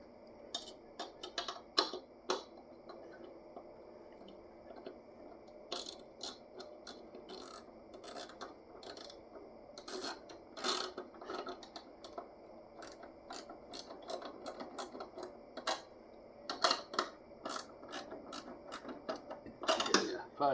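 A 5/16 wrench ratchets on an Oliver Super 55 tractor's gauge fittings, giving quick runs of close, light clicking in irregular bursts over a quiet workshop background, with occasional soft voices.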